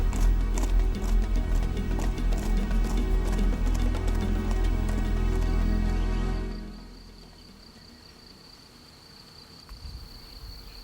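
Rapid drumming hoofbeats of animals running across the Rann desert, loud and continuous for several seconds before cutting off abruptly into faint insect-like buzzing.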